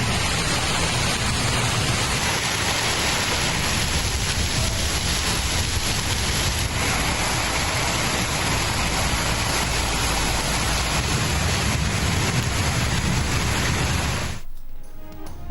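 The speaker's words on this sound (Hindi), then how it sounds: "मुल्क के मुख्तलिफ हिस्सों में बारिश।" Steady rain falls continuously as a dense, even hiss with no pauses, then cuts off abruptly just before the end.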